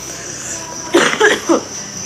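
Three short coughs in quick succession, close and fairly loud, over a quiet background hum.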